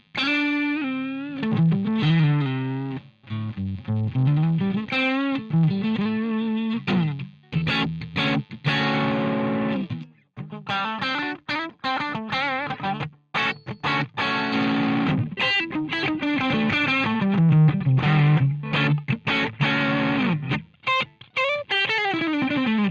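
Electric guitar with split pickups runs through a Line 6 Helix with an impulse response cabinet and a noise gate, giving distorted, effects-laden riffs and chords that play continuously for over twenty seconds with sharp stops between phrases, loud and alone.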